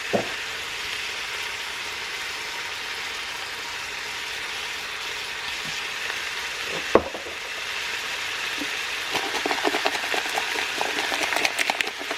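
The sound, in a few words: ground beef browning in a pan with seasoning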